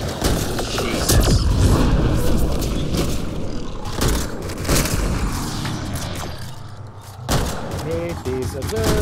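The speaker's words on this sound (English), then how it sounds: "stop shooting me" Dense gunfire and explosions in Mass Effect Andromeda multiplayer combat, loud rapid shots and booms with players talking over it.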